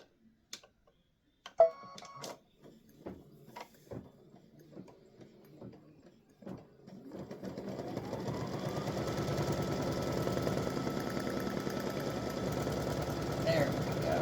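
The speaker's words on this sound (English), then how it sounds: "color stop 19 is going to stitch across this to hold those tabs down" An embroidery machine stitching across fabric tabs on a memorial display panel starts up after a few sparse ticks and clicks, then runs with a steady, loud, continuous mechanical whir and rapid needle chatter.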